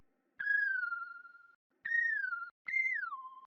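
A synthetic whistle one-shot sample from the Intention kit plays three clean pitched notes, the first held and sliding gently down, the last two shorter with falling slides, isolated and dry.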